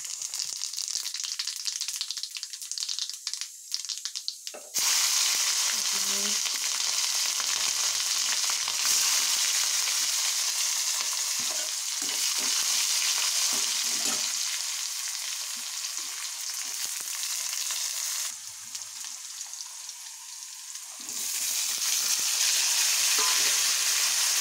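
Hot oil sizzles and fries steadily in a pan while carrot and pea sabzi is cooked with onion and garlic paste, a loud continuous crackle that starts abruptly after a quiet opening and runs with small dips.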